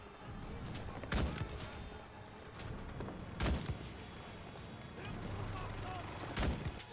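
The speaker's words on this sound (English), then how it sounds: "He fires in the name of the Reich." Sharp gunshots ring out at intervals in the video game Enlisted, a few distinct loud cracks over a busy battlefield background, with someone talking between the shots.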